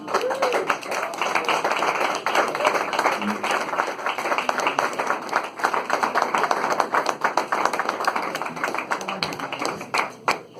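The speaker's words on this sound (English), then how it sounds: "keep that applause going" A poetry open mic crowd at the Mercury Cafe claps steadily for about ten seconds, dense and close, with a few faint voices mixed into the applause.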